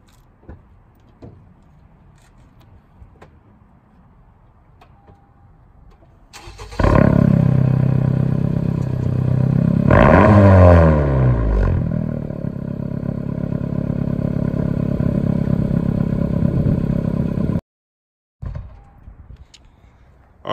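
A Honda car engine cranks and fires, then roars loudly through loud aftermarket mufflers, rising into a rev before settling to a steady, rumbling idle that cuts out briefly near the end.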